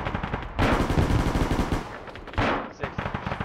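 Sustained automatic gunfire rattles through a video-game assault by an armored column retaking an airfield in Eastern Europe, loud and close in two long dense bursts with a brief lull between, and no voices.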